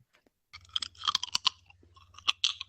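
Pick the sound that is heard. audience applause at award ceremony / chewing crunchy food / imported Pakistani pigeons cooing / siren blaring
chewing crunchy food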